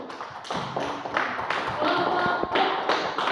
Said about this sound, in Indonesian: Ya, tepuk tangan kelompok 1.